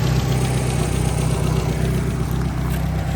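A 1G Mitsubishi Eclipse GSX with a front-mount intercooler and 97 2G injector clips idles steadily, its engine hum loud and close with a constant low rumble and no voices.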